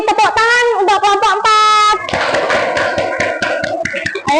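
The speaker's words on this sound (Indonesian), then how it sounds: "Beri tepuk tangan untuk kelompok" A sixth-grade class applauds a student group: after a short stretch of a speaking voice, close, lively clapping from many hands breaks out and continues to the end.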